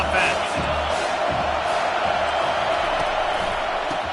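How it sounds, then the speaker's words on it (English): Stadium crowd at a Michigan vs Kansas football game roars in a steady, dense wash of noise that stays loud and unbroken, with a few sharper shouts and thuds rising out of it. "This crowd trying to make life miserable for this offense."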